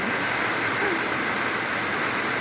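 Heavy rain pours steadily onto a house courtyard, a dense, continuous hiss of falling water that stays loud and even throughout with no pauses.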